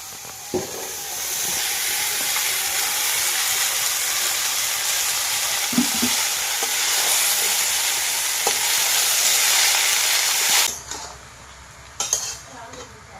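Sautéed crabs in a pan getting bottle gourd pieces, with a loud, steady sizzle and the clink of a utensil against cookware that cut out abruptly near the end, followed by a few scattered knocks.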